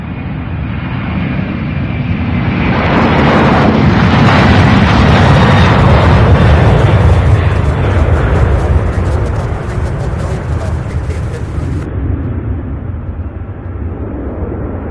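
A heavy jet takes off from runway 17 left at Louisville International Airport, its loud roar swelling over several seconds, holding, then easing off while still strong.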